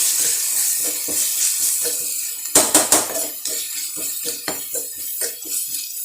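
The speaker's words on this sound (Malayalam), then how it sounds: "ആ രണ്ട് കൂടും മസാല ഇട്ടിട്ട് അവരെ ഒന്ന് ഇതിലിട്ട് റോസ്റ്റ് ചെയ്യാം" Masala roasts in a pan for noodles with a steady bright sizzle, broken by scraping and stirring clatter, with a louder burst of clinks midway, close and fairly loud.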